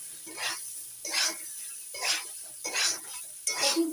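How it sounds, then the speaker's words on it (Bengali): Fried cauliflower is stirred in a cooking pan: five evenly spaced scraping strokes with light sizzle and utensil clatter, close and fairly quiet. "কপিগুলো দিয়ে একটু নাড়াচাড়া করে"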